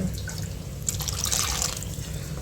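Water pours into a metal pressure cooker pot holding chickpeas in a steady, close splashing stream, with a few light drips and no talking.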